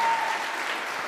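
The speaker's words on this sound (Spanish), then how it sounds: "Un aplauso al hermano, por favor" Brief burst of church congregation applause, a dense wash of many hands clapping at steady loudness that tapers slightly, with a faint voice edge at the start.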